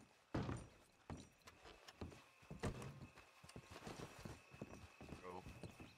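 Donkey hooves clip-clop in a zombie video game, a few distinct hoof knocks followed by a looser patter.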